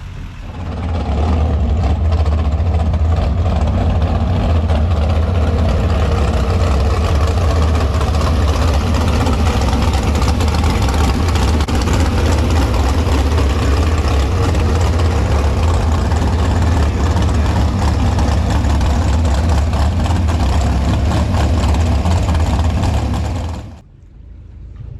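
A 1980 Mako flat-bottomed V-drive speedboat with a big block Chevy 396 idles loud and close, a deep steady rumbling burble held for over twenty seconds before cutting off abruptly near the end.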